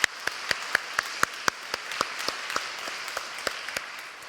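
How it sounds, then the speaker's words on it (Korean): A church congregation claps in a steady, even rhythm, distinct individual claps ringing out at a moderate distance inside the church hall. "우리 서로 격려와 잘했다고 칭찬의 박수 함께 했으면 좋겠습니다."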